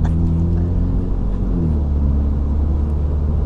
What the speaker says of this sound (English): the JCW Pro exhaust that was added on at the dealership definitely makes it even louder and more obnoxious